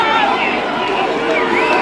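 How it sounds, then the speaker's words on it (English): A protest crowd charges through a police line, a dense, loud, continuous roar of many voices and movement filling the scene throughout. "They're charging, they've broken the police line."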